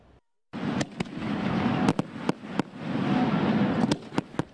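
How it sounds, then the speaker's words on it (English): Fireworks grand finale at a Fourth of July celebration at Coney Island: a dense, continuous barrage of crackling bursts punctuated by sharp, loud bangs in quick succession. "This display was the grand finale to the events at Coney Island tonight."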